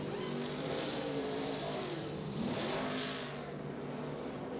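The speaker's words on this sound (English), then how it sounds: "So Kyle leads them off pit road, but Kurt Busch, Carl Edwards, and Matt Kenseth stayed out" NASCAR race cars pull off pit road at Richmond during the 2013 Toyota Owners 400, a loud, steady wall of engine roar that swells and recedes as the cars accelerate past.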